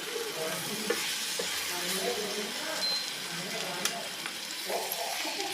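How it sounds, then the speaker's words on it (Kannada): Radish greens hit a hot tempering in a pan and sizzle steadily while being stirred, a continuous close frying hiss with scraping. "ಅದೆಲ್ಲ ಫ್ರೈ ಆದಮೇಲೆ ನಾನಿಲ್ಲೇ ಬಸದಿಟ್ಕೊಂಡಿರುವಂಥ ಸೊಪ್ಪನ್ನು ಹಾಕ್ಕೊಳತ್ತೀನಿ"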